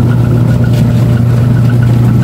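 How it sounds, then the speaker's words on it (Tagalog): A pure copper washing machine wash motor spinning fast, a loud continuous hum with a steady low drone and even whirring, no pauses. "So ganun lang mo pahit ng wash motor ng ating mga washing machine."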